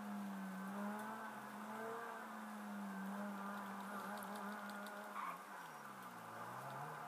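A video game car engine hums steadily at low volume, its pitch rising and falling as the car drives, with faint tire and impact sounds and no talking.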